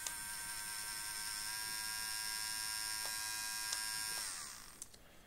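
A Xiaomi Enchen Boost ceramic electric trimmer runs with a steady high-pitched buzzing hum, close and continuous for several seconds before it winds down and switches off, followed by a few faint clicks.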